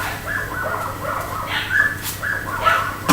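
Dogs whimper and yip in a small indoor space, with high, whiny cries repeating in short uneven bursts and a few sharper barks. The sound is close and fairly loud over a low steady hum.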